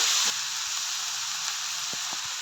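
Green chillies and onions sauté in a pan for a Kerala-style chicken curry. The oil sizzles in a steady, close hiss, broken by a few soft clicks and scrapes of stirring.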